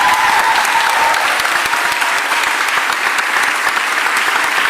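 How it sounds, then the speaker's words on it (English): An audience at a mayor's press conference about the end of a city workers' strike applauds loudly and steadily, many hands clapping close by, without a break. "Can you give them a round of applause?"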